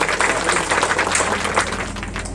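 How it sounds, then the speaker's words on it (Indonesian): Dense, sustained applause from a crowd at an official inauguration and installation ceremony for a regional organization's board in Kepulauan Meranti regency, steady and fairly loud throughout with no clear break. "Beri tepuk tangan yang gemuruh sekali lagi."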